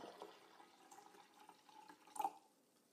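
Water pours and trickles softly into a glass of a water xylophone, a light gurgling stream with a brief splashy burst near the end, quiet and close.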